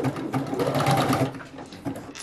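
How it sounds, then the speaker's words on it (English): A sewing machine stitching fabric for shorts, a close, fast mechanical whirring in short bursts with rhythmic needle clatter, pausing briefly before starting again. "I'll bring you over to the sewing machine."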